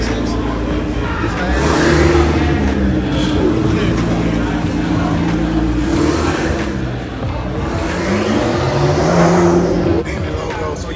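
A huge engine revs at a lifted-truck show, TSP SLAM 2019, climbing and falling through several loud, close sweeps over a constant rumble, with crowd noise around it.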